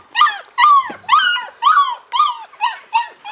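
Czechoslovakian Wolfdog puppies, 42 days old, give a series of about seven close, high whimpering yips at a quick, even pace, each a short rising-falling whine.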